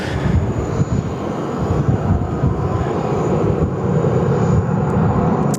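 A Dash 8 turboprop airliner roars steadily and loudly as it takes off from Sydney Airport, with a broad, constant engine rumble and no voices.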